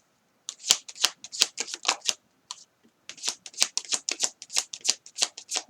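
Tarot cards are shuffled close by in quick, crisp riffling bursts, with a short pause partway through before the rapid shuffling resumes, and no one speaking.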